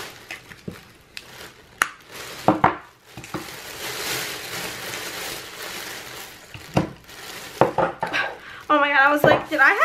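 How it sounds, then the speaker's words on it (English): A lid falls off and clatters, giving a few sharp, close knocks amid soft rustling and handling noises, with no talking. "We've got a lid falling off."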